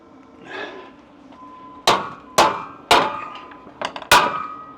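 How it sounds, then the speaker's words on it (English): A hammer strikes welded rebar five times in close succession, each blow a loud, sharp metallic clang that rings briefly, following a quieter stretch of shop noise and faint voices. "I'm first gonna hit it with my hammer"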